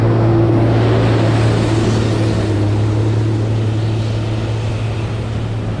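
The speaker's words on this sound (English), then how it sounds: "Oh no, there's a truck." A loud, steady engine rumble with a low drone fills the air as a heavy truck rolls past close by on a New York City street.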